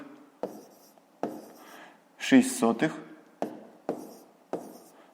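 Pen writing numbers on paper, a series of short separate strokes at a steady pace, close and fairly quiet, with a brief burst of talking partway through.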